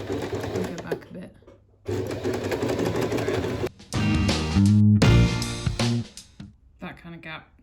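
A sewing machine stitches the seam of a fabric face mask in short bursts of rapid whirring, stopping and starting as the stitching goes forward and back, with a voice talking between runs.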